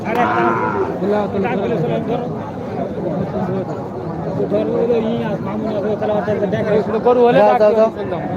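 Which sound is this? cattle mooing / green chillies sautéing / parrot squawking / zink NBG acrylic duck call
cattle mooing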